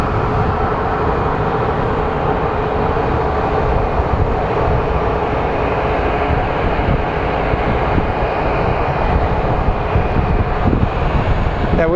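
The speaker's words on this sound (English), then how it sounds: "have our plane coming in from San Jose next. He will also be landing on 25 or 7" An airplane arriving from San Jose lands at Phoenix Sky Harbor International Airport, a steady, continuous jet roar lasting throughout at moderate distance, with no talk over it.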